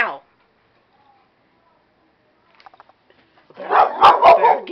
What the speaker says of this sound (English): What are you barking at, dummy?